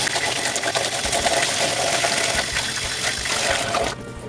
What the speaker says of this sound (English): a lot of the excess water, I'll go ahead and wring out